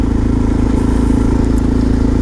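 Motorcycles, including a Suzuki DRZ supermoto, rumble steadily at close range, their deep, even engine drone holding through the whole stretch with no talk over it.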